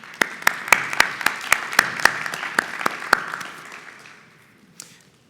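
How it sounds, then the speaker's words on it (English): A small audience at an AI training day at Vanderbilt gives a brief round of applause: sparse, distinct claps in a loose rhythm that thin out and fade over a few seconds, ending with one last stray clap. "One more round of applause for Liv and her work."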